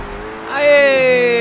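A 2018 McLaren 720S in Forza Motorsport 7 races a very wet Le Mans circuit, its engine a steady, loud whine that climbs in pitch as the car accelerates, with a voice speaking over it.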